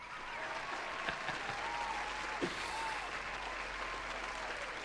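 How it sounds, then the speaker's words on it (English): A round of self-congratulatory applause, a steady wash of clapping that holds evenly for about five seconds, moderately quiet and uninterrupted, with no voices over it. "I'm giving myself a round of applause for that."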